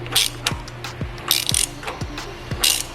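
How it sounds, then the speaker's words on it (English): A ratchet tightens a small sensor during a Coyote engine swap into a New Edge car. About five crisp bursts of clicks repeat at roughly half-second intervals, close and clear with no talk. "for these bigger sockets, you have to use a 1/2 inch ratchet"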